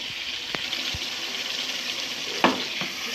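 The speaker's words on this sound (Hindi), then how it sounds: "तो अब मैं इसको अच्छे से मिक्स करती हूँ" Kachnar buds fry in a pan under a constant sizzle, with a few sharp scraping strokes as they are stirred and mixed; short, close and fairly quiet, with no voices.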